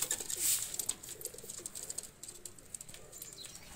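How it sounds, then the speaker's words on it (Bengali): Red-eyed pigeons let go from the hand, with soft cooing and faint chirps close by over a steady background hiss, no talk. "তো 2টা কবুতর ছেড়ে দেখাচ্ছি আমি"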